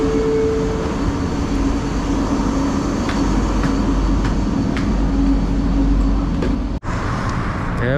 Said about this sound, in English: Okay guys, the LRT train has came.